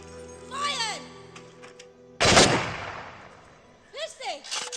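A firing squad fires in a movie scene, one loud gunshot volley with a long decaying echo, between shouted voices before and after.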